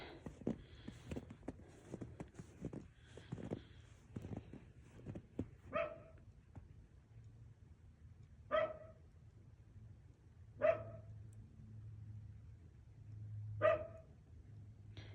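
Dogs barking outdoors on a snowy day near an RV, with several sharp single barks spaced a few seconds apart at moderate distance, after a stretch of faint mixed sounds.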